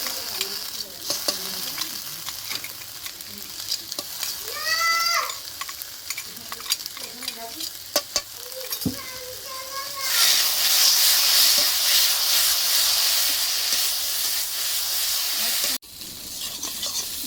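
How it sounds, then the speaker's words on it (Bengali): Taro and mixed vegetables frying with masala in a pan for a bogo fish curry, loud steady sizzle and hiss with a spatula scraping and stirring, the sizzle surging louder partway through. "দিয়ে কিন্তু আমার মশলাটা এই আনাজটা আরো ভালো করে কষতে হবে"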